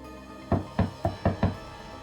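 Someone knocks on a door in five firm, fairly close raps with a hollow thud, evenly spaced in quick succession with no voices.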